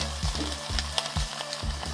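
Egg, ham and cheese toast frying in a pan, a steady close sizzle with soft rhythmic stirring or scraping strokes repeating about every half second.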